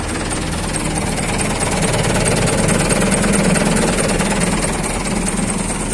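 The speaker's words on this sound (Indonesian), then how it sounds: "Nah, suara mesinnya garing banget." A Hino FBM truck's diesel engine runs in neutral, a loud, rough, steady clatter with a continuous low rumble, close to the engine.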